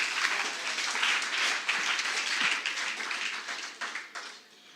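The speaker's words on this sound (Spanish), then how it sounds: "Dale un aplauso al rey, iglesia." A church congregation applauds together, a dense wash of many hands clapping that holds steady and then thins and fades toward the end, with no talking over it.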